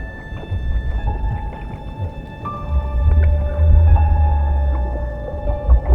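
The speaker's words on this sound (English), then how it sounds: "the low-frequency sounds produced by another lemon shark." Low-frequency sounds from a lemon shark hunting in the surf zone: a deep, loud underwater rumble that comes and goes in pulses, with thin steady tones and faint ticks above it.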